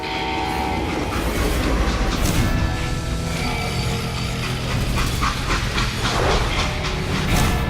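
Steam train from the Call of Juarez video game running steadily, a loud continuous rumble and clatter of rolling wagons with hissing steam and faint rhythmic clicks throughout, no voices.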